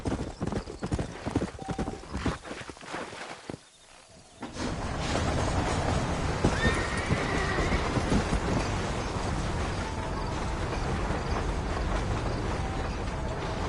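Horse in the Red Dead Redemption video game breaking into a gallop, loud rhythmic hoofbeats that pause briefly and then settle into a dense, continuous pounding, with a whinny mixed in.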